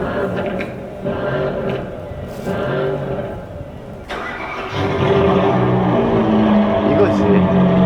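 A Maserati Levante diesel turbo engine runs with a gruff, steady drone that swells louder and fuller about halfway through, with faint background voices.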